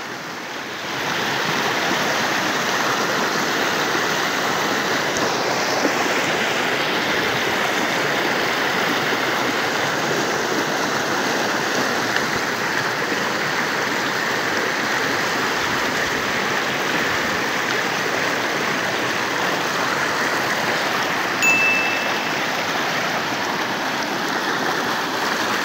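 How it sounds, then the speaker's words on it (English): Floodwater of a swollen river rushing and splashing against a 50 m pipe being crossed on foot, a steady loud roar of turbulent water that holds close and unbroken throughout. "As you can see, the water is splashing on it."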